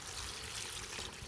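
Water pours into a country-style chicken curry in a pan, a steady close hiss of liquid streaming in for the whole moment with no talk.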